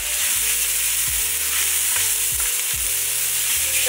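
Ingredients for tortellini soup, seasoned with pepper and salt, cook in a pot with a loud, continuous close-up sizzle, punctuated by regular scraping stirs and a droning hum beneath.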